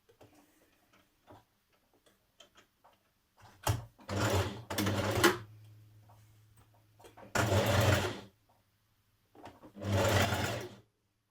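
Sewing machine stitching a seam on a vintage-style dress, sewn from the outer seam toward the stitching line, runs in three short bursts of rapid, steady mechanical stitching, close and clear, with quiet clicks and handling between runs and no talk.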